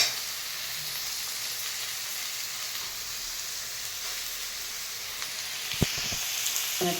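Green chilies and peanuts sizzling in hot oil in a home kitchen, a steady bright frying hiss throughout, with a few faint clinks of a utensil stirring near the end.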